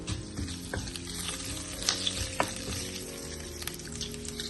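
Fennel seeds, cardamom and cloves sautéing in hot oil in a pan for vegetable biryani, a steady crackling sizzle with scattered pops and occasional stirring scrapes, close and moderately loud, no talking.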